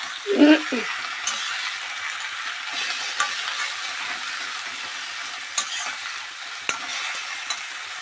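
Potato pieces stirred into mool greens frying in a pan: a thick clatter as they drop in at first, then a low steady sizzle with occasional sharp utensil taps against the pan, close by.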